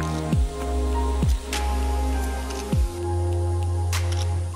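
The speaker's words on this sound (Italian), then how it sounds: "Lì giù, se vedete, c'è tipo un ruscello." A small stream flows through woodland, a steady watery rush with a low hum underneath and a few soft squelching sounds close by.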